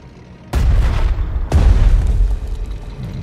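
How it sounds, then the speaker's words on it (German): Artillery fire in the war strategy game Strategic Mind: Fight for Freedom, with two heavy booming blasts about a second apart. Each one is loud and close and leaves a rumbling tail. "Artillerie."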